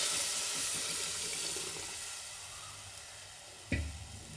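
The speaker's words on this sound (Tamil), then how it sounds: "இப்போ நம்ம புளி கரைச்சலை ஊற்றிடுவோம்." Tamarind water is poured into a hot pan for kathirikai manga puli kulambu, giving a loud rushing sizzle that fades to a steady simmer, followed by a sharp clank near the end.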